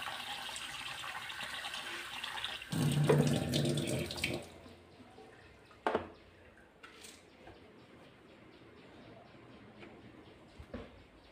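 Tap water runs steadily while rice is washed for an Odia home meal, swelling louder for a couple of seconds, then easing to a trickle with a few clinks and splashes.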